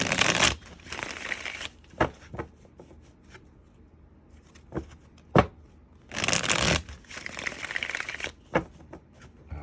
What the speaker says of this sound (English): Shuffle them a couple more times.